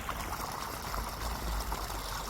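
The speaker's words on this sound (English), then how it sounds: "that's the same stream that we use for irrigation" A stream that feeds irrigation on an African farm flows steadily nearby, a soft continuous trickle and rush of water with no voices.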